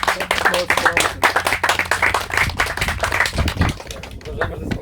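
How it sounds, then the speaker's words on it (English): Audience members at a ten-year jubilee of a Warsaw cricket club clap together, dense rapid claps up close with voices talking and cheering underneath. "So let's give a huge applause for ourselves"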